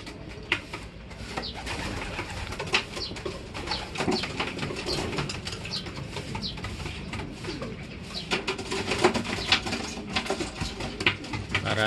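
Young pigeons in a flyer loft coo and flutter close by, with soft cooing calls, light pattering and occasional wing flaps running steadily throughout.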